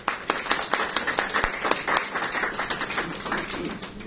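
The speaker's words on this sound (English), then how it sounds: "Let's give a round of applause to Dr." Wedding guests clap at a civil Christian marriage ceremony, a dense burst of hand claps with sharp individual slaps standing out, steady and fairly close for several seconds with no talking over it.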